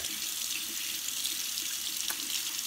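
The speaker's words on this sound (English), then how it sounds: "then I'm going to fill it the rest of the way with hot water" Hot water runs from a tap into a half-cup measuring cup, a steady close hissing pour that continues unbroken throughout.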